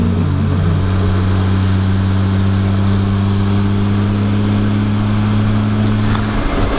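A BMW K1600GT touring motorcycle cruises a coastal road in Okayama with a loud, steady engine drone and constant wind rush, the tone holding even throughout with no talking.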